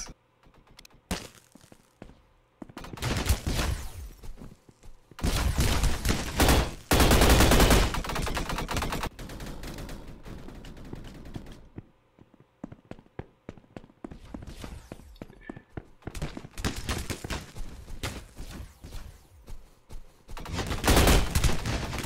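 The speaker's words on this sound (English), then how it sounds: "Let's try the handgun." Handgun and other gunfire in the Roblox shooter Energy Assault, bursts of sharp shots in uneven clusters separated by quieter gaps, loud and close with game sounds between, no voices.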